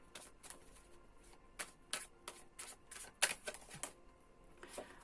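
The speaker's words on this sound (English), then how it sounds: "So a final shuffle of the Gilded Tarot." A deck of Gilded Tarot cards being shuffled, with a run of crisp riffling bursts and soft card slaps, fairly close and quiet, with no talking.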